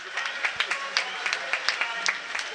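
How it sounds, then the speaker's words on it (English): Scattered clapping from a small crowd for a swimmer at a university short-course swimming championship pool, with sparse, uneven claps at moderate distance over a faint hall hum. "nice to hear here in the crowd, a round of applause there"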